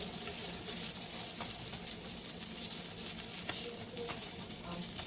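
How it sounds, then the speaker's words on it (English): Algerian mahjouba flatbread frying in a hot pan, giving a steady, close sizzle with soft crackles running evenly throughout, no voices over it. "Let them cook for 1 minute each side"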